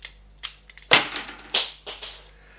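Transformer Super Link Demolisher toy launching its plastic missiles: a series of about six sharp, close snapping clicks spaced irregularly over a couple of seconds, each a quick spring-loaded pop with no talking.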